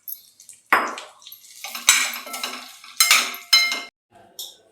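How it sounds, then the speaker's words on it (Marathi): Dates stirred in a little oil in a pan: sharp scraping and clinking of a spatula on metal in separate bursts, with light sizzling between strokes and short silent gaps. "आता आपण थोडं तेल टाकून खजूर त्याच्यावर परतून घेऊया."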